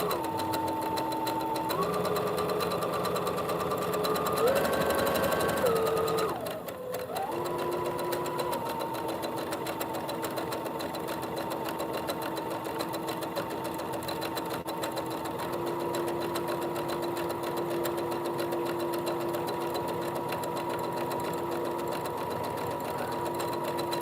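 A domestic sewing machine stitches fabric in a steady, fast mechanical whir, with a brief speed change and pause early on before running evenly and continuously, close by and alone.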